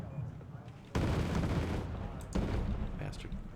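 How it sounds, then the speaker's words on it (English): MI-8 helicopter twin cannons firing in the video game Wargame: Red Dragon, with two loud sustained bursts of rapid gunfire, each cutting in abruptly and rolling on, under faint background talk. "We'll get the MI-8 then with our double cannons."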